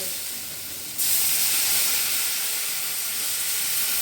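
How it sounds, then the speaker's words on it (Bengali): Water poured into a hot pan of frying potato and tomato masala for a chickpea curry, setting off a sudden loud, steady steaming hiss that carries on evenly. "এবারে আমি এতে জল দিয়ে দেব"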